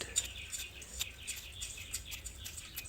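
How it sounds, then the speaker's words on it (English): Small garden birds chirp and tweet in a repeating pattern of short, bright calls, faint and somewhat distant over a quiet outdoor hush. "Listen to the birds."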